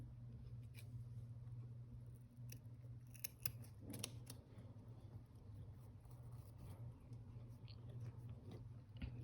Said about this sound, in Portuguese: aqui eu já posso cortar o fio